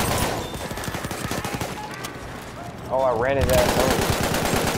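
Rapid automatic gunfire from a weapon in the video game Battlefield 1, loud bursts rattling on and off under an excited player's talk.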